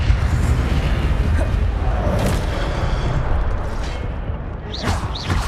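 Incendio fire spell cast in Hogwarts Legacy, a steady roaring, crackling burst of magical flame that holds loud throughout, with a couple of sharper whooshing flares near the end.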